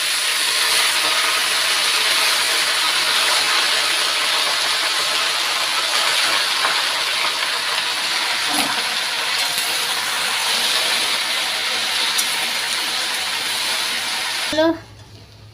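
Drumstick greens frying with red chillies and garlic in a pan, a loud steady hissing sizzle that cuts off abruptly near the end, with no voices.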